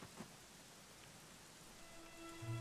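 Rain falls steadily in the video game Dragon Quest XI, a dense even hiss of drops on surfaces with a faint low rumble of distant thunder, and soft tones of game music rising near the end.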